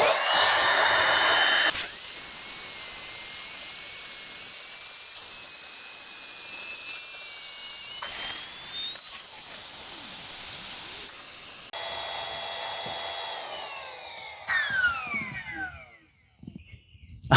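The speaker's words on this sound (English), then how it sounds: "I want to deflate it now, see how long that takes" Lost Horizon Align Plus air mattress deflating, a long steady rushing hiss of escaping air that shifts pitch and tapers off, with a few handling rustles and brief breaks before fading to near silence.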